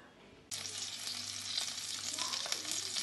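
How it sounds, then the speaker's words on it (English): A sudden burst of loud, steady sizzling as shallots hit hot mustard oil in a pan, crackling continuously up close with no voices. "I've got here the shallots cooking away in mustard oil"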